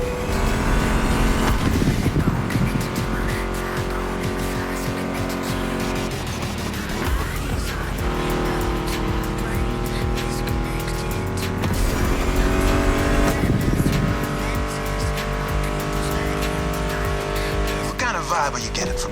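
A Mustang GT muscle car engine in the racing game The Crew Motorfest roars and revs up and down with shifting pitch and some tire squeal, mixed with music and someone talking over it.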